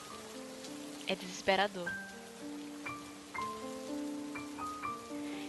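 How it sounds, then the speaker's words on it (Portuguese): Rain falls in a scene from the Bleach anime as a soft, steady hiss under music, with a brief burst of spoken voice near the start. "Você vê a chuva caindo do céu."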